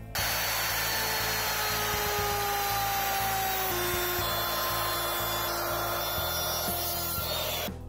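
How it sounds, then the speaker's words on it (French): A wood router cuts a groove into a wooden board clamped against a guide, a steady whining machine drone with a rough cutting rasp that holds loud and continuous throughout. "J'ai maîtrisé la défonceuse avec sa fraise comique."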